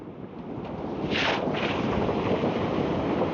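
Warm northerly wind buffets a microphone outdoors on an evening, a continuous low rumbling roar that swells after the first second and stays steady and close throughout.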